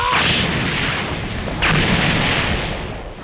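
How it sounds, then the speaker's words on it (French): A giant meteor attack explodes in the Dragon Ball Xenoverse video game on PS4, a loud sustained booming blast with a second rumbling burst midway, fading out toward the end. "Allez, pour toi un obus. Météore géant, pardon."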